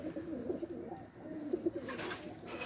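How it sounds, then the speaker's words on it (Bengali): Pigeons at home coo repeatedly before being loaded into a box for a racing release, several soft throaty calls in a loose rhythm, close and fairly quiet, followed by a brief rustle. "কবুতরগুলো দেখে নিই"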